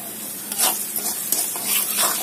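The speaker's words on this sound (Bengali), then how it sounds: "পেঁয়াজগুলো ভেজে নিচ্ছি" Onions frying in a pan give a close, steady sizzle with soft hiss and bursts of crackle as they are stirred.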